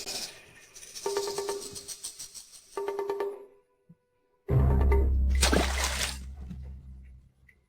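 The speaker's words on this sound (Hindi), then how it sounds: "उस मछली ने मुझ पर पानी फेंका।" A small fish splashes water out of a pond, with sharp splatters and sloshing bursts after quieter dripping and trickling. Nearby rushing water swells loudly, then stops abruptly.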